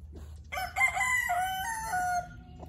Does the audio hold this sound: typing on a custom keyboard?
no